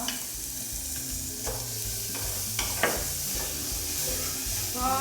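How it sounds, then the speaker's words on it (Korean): Chopped garlic and onion sizzle steadily in hot olive oil in a pot, a continuous close frying hiss with a few soft stirring clicks. "타지 않을 정도로 양파랑 마늘을 충분히 볶아내서"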